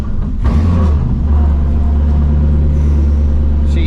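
A BMW E46 drift car drives with a steady, loud, low engine drone that holds throughout, with a brief rise in intensity near the start.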